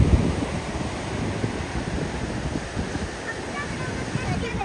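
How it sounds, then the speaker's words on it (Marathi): Rough sea surf at Varkala beach in Kerala roars continuously with wind buffeting the microphone, a steady broadband wash of breaking water with no distinct individual wave crashes. "पाक समुद्र खवळला इथं"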